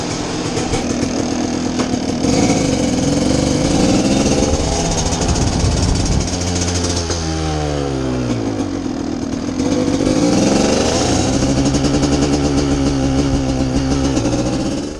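A 1991 Kawasaki KDX200 dirt bike engine during a break-in ride, a loud, steady buzzing drone that rises and falls in pitch as the rider works the throttle, with no talk over it.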